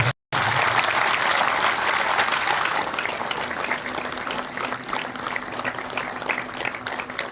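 A large crowd claps steadily to welcome a revered guru at a Hindu fire-ritual flag-hoisting ceremony in Latur, with dense, sustained applause that stays loud throughout and tapers only slightly toward the end.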